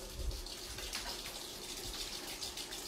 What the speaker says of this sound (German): So gigantisch, dass er sein Wasser nicht aus einer Schüssel, sondern direkt aus dem Wasserhahn trinkt.